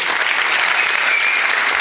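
Loud, sustained applause from a large audience at a MI Lifestyle network marketing meeting, cheering a team: dense, even clapping with no break, close and strong.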